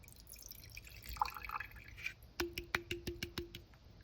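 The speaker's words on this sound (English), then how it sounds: "Now I'm going to add my 29 milliliters of vinegar." Vinegar poured into a glass beaker gives a quick run of sharp, evenly spaced drips and splashes, close and fairly quiet, with no voices.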